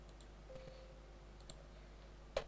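Faint, sparse computer mouse clicks while working in CATIA, a few soft ticks spread out over a steady low hum, with one sharper click near the end.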